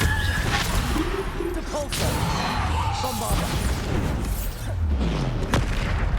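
Bombarda explosion spells in the video game Hogwarts Legacy burst with loud booms and whooshing impacts amid continuous combat noise, while a voice shouts spell names.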